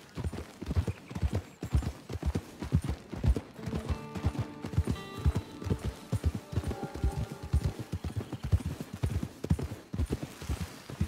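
Horse hooves clip-clop steadily in the Red Dead Online video game, a brisk, regular rhythm of hoofbeats close up, with a brief whinny and faint background music partway through.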